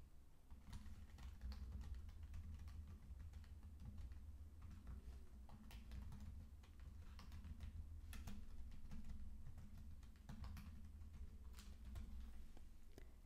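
Someone types a question on a computer keyboard, a steady run of quick key taps that continues for the whole stretch against a low background hum, with no voices.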